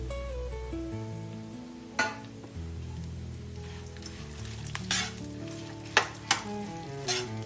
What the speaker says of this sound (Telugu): ఇలా లైట్గా దోరగా వేయించుకోవాలి.